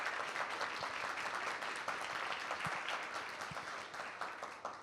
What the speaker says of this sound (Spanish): Así que también le damos un aplauso a Andrea.